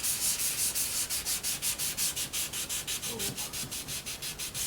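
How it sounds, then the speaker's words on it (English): A 2000 grit pad sanding a spray-painted finish by hand, with steady rhythmic back-and-forth rubbing strokes, close and even, about three strokes per second, with no talking. "now we're going to get into the 2000 grit pad"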